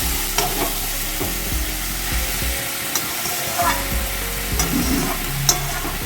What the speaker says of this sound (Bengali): ভেজে রাখা এগুলো সব ঢেলে দিলাম।